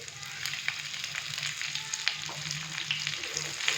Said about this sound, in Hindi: प्याज डालने के बाद हम 2 मिनट के लिए प्याज को हल्का सा फ्राई करेंगे